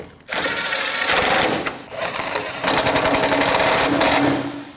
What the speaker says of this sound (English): They're 2 12mm bolts. Tighten those 2 bolts.